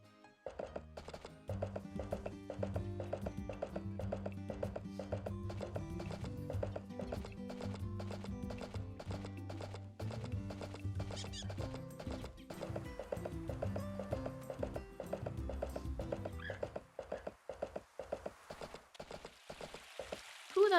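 A horse's hooves clip-clop in a rapid, steady rhythm while it is ridden in the Story of Seasons farming video game, over a looping game backdrop, briefly pausing around the middle before resuming.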